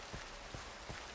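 Rain falls in the Minecraft video game, a soft, continuous hiss with a few faint, evenly spaced patters, quiet and alone.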